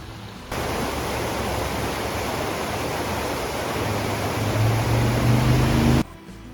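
Small mountain streams flow near a lake, making a steady, broad rushing wash of water that sounds close and fills the scene without pause, ending abruptly.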